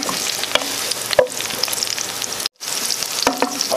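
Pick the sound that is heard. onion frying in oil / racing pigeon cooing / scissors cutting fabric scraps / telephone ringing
onion frying in oil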